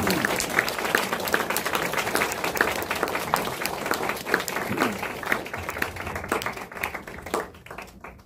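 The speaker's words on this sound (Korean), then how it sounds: "이제 올라오실 때 할렐루야 또 영광의 박수를 드리겠습니다." A Korean church congregation at a Sunday morning worship service claps for a pastor coming up to speak, with many hands in a lively, somewhat rhythmic patter that thins out and fades toward the end.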